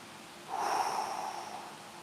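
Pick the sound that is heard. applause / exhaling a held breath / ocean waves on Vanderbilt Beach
exhaling a held breath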